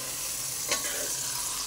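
Tomatoes frying in a pan for egg biryani, a brief steady bright sizzle with one soft stir stroke in the middle, no voices.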